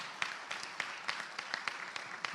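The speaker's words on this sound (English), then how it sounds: "Big round of applause for them." Scattered, sparse clapping from a dinner audience at an annual meeting held at a country club, with a handful of distinct claps spaced irregularly over a faint background.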